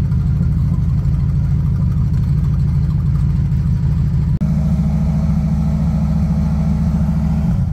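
A Bombardier wide gauge snowmobile engine runs loud and steady through a cold-weather start, its low throb stepping up into a harder, higher rev partway through and holding there.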